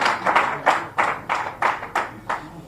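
A rally audience claps in welcome, about eight separate sharp bursts of clapping spaced at a steady rhythm, fairly close and clear.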